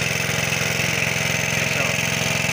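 Small engine driving an irrigation pump for a one-inch impact sprinkler on a shallot field, running loud and close with a steady, fast, rhythmic chug.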